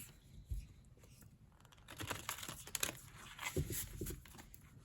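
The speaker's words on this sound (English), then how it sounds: "Let's see how this card deck shuffles." An oracle card deck of sturdy, medium-thickness cards is shuffled by hand, giving quiet, close riffling and soft card-on-card flicks in short bursts, with no talking.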